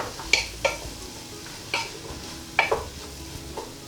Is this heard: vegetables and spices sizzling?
yes